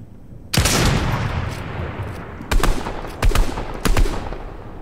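Loud gunfire in the Fortnite video game sounds in four sharp shots or short bursts, the first strongest, with a sustained reverberant tail after each.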